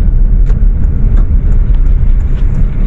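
Heavy road traffic at Crossing Alfonso, a loud, constant low rumble of passing cars and engines, with faint clicks and brief higher tones over the steady drone.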